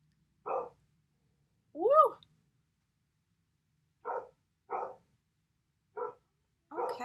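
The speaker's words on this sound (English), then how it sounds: "They're making the dog bark." A dog barks in short separate bursts about six times, fairly close, with a person's exclamation mixed in among the barks in a home setting.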